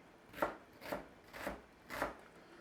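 A knife slicing through onions on a board, four evenly spaced soft crunching cuts at close range, with no talk.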